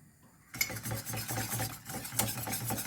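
A whisk stirs milk into a thickening cheese sauce in a pan on the hob, a rhythmic scraping and swishing that begins abruptly after a quiet moment and continues in quick, even strokes, close up.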